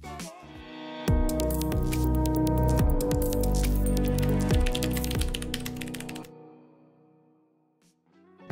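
Typing on a Corsair K65 RGB Mini 60% mechanical keyboard produces a loud, dense run of clacking keystrokes layered over tonal music, then fades to near silence before a final click.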